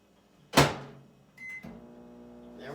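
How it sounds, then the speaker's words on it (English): Microwave oven cooking pecan brittle: a sharp clunk as the door shuts, then a beep and the steady low hum of the running oven. "this is going in the microwave for 3 minutes"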